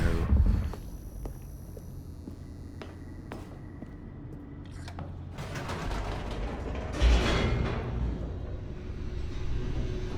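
A large mechanical door labelled Mind Control Facility in the video game The Stanley Parable opens with a creaking, ratcheting grind of gears and clanks, building steadily over about ten seconds, with no voices.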